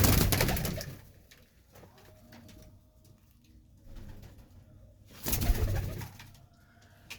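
Pigeons with young in a netted coop coo in soft, low murmuring bursts, one close-up and loud near the start and another swell near the end, with quieter rustling between.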